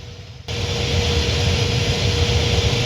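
Thai Airways airliner taking off in the evening from Bangkok airport: after a short quiet moment a loud, steady jet-engine roar sets in abruptly and holds constant to the end.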